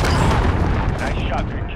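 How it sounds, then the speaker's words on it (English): In Call of Duty: Modern Warfare, a missile strike erupts into a loud, rumbling explosion that fills the whole short moment. Debris and rolling blast noise linger under it. "Missile away."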